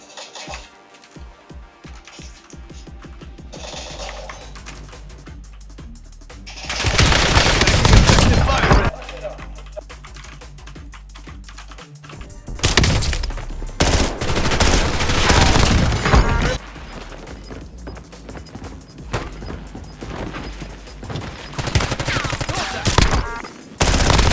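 Rapid gunfire from Call of Duty played on a PC: loud bursts and automatic fusillades cut in around the middle and again later, separated by quieter game ambience, with no voices.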